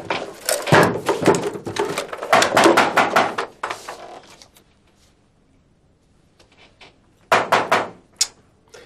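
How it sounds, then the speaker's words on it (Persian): Loud clusters of knocking and rattling hit a door in a Persian comedy TV series scene. Bursts of rapid blows give way to a quiet pause, then a shorter final round of knocks. "صدای زنگ نبود صدای در بود"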